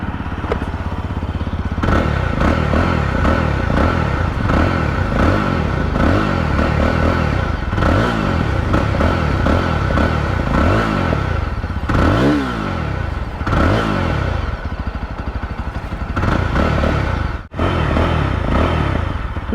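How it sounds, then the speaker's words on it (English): A Yezdi Roadster motorcycle engine idles and revs repeatedly, its exhaust note rising and falling in loud, close bursts with no talking. "Now let's hear the exhaust note of the motorcycle, shall we?"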